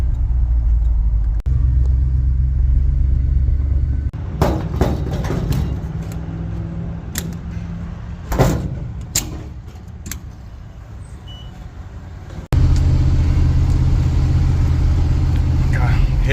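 A 1978 Dodge D200 truck drives on scenic back roads, its engine a steady low rumble that quiets through the middle stretch, with scattered knocks and a voice, then swells loud again near the end.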